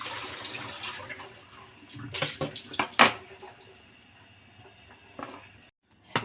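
Water pouring and splashing while rinsed miso soup ingredients are drained in a kitchen, with intermittent clatters and bursts over a steady faint wash, then a brief pause near the end.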